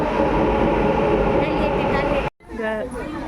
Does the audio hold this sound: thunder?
no